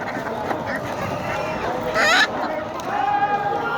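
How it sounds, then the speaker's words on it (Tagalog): Small native chickens crowd an animal market in Saudi Arabia, giving off a few sharp, honking clucks that rise above steady background bustle, with people talking nearby. "Yan oh, daming manok oh"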